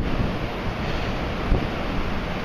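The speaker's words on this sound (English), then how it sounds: "Just the roar of the sea in the background, there's nothing like it." Steady roar of surf and breaking waves on a stormy north Antrim coastline, loud and continuous with heavy wind buffeting the microphone throughout.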